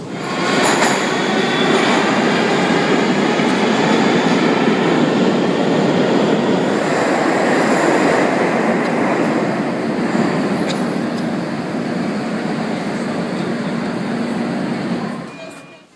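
A steady loud rumble of a moving train carriage travelling between Moscow and the Baltics, with rattling wheels and faint squeals throughout, fading out at the end.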